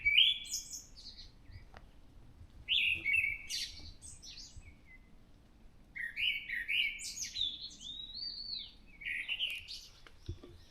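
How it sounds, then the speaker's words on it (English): Thrush song carrying from trees before sunrise, several bright whistled phrases in separate bursts, fairly clear and moderately distant over a low rumbling background. "And of course the thrush is in those trees."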